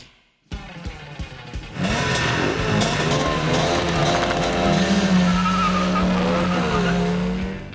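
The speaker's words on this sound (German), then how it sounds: "Motorradfahren." Racing motorcycles scream past on the modern Sachsenring circuit, their high engine whine rising and shifting pitch as they accelerate, loud and close after a brief quiet start.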